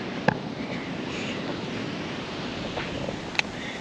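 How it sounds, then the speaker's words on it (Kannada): Sea waves at a beach in central Goa washing in a continuous broad rush, mixed with wind buffeting, plus a couple of faint clicks. "ಮತ್ತು ಇಲ್ಲಿ ನೋಡಿ ನೀರು ತುಂಬ ವೇವ್ಸ್ ಅಂತೂ ತುಂಬ ಇದೆ ನೋಡಿ"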